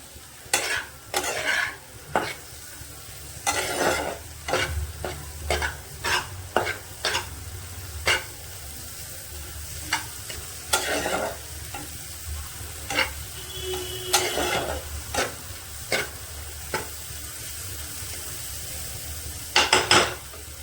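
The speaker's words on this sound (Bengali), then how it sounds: "এবার ভালো করে গ্যাসটাকে বাড়িয়ে ভালো করে একটু নাড়াচাড়া করে নেব।" Egg and tomato fry on high gas in a pan, a low steady sizzle under a long run of sharp, irregular utensil scrapes and clanks against the pan as the mixture is stirred, with no talking.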